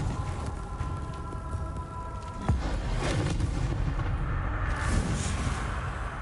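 A Confringo fire-blast spell bursting in Hogwarts Legacy, a loud boom with a sharp crack followed by a rolling, rumbling blast and sustained roar, heard alone.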